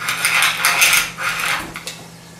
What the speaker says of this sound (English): crushed black peppercorns. So I'm going to use the bottom of this pan.